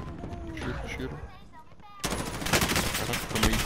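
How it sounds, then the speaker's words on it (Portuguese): Gunfire in Call of Duty: Modern Warfare, scattered shots followed by a dense burst of rapid automatic fire in the second half, loud and close. A player's voice comes through intermittently underneath. "Tiro."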